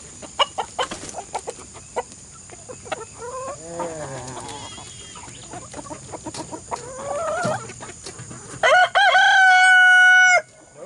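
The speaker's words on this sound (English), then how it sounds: "let's get these crazy chickens out" Backyard chickens cluck and squawk in scattered bursts close by, then a rooster crows loudly near the end with a long sustained call.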